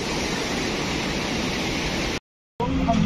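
The Parvati River rushes in a steady broadband roar close by, loud and unbroken except for a brief gap in the sound.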